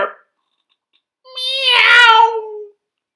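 A human voice imitates a cat's meow: a single drawn-out, rising-then-falling mew, close and clear, preceded by a brief faint sound and a moment of silence.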